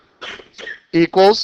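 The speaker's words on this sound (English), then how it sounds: "I was coughing." A boy coughs twice in quick succession, close and fairly loud, just after a short burst of speech.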